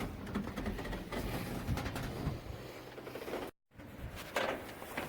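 Bolts are tightened on flow shields over a new grain tank auger trough, with a fairly faint ratchet wrench clicking in rapid runs, a brief pause, then more clicking.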